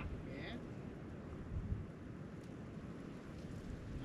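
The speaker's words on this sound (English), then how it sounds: "Wind and rain are coming from the opposite ends." Wind and rain sweep over an outdoor shooting range during a storm, a faint, steady rushing roar with low rumbling gusts and no clear voices.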